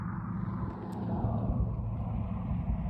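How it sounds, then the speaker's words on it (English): Road traffic passes outdoors, a steady low engine rumble and tire roar from cars rising slightly as vehicles go by, continuous and moderately close with no talking. "It just wouldn't be quite the same without the surrounding noise and cars and planes and animals."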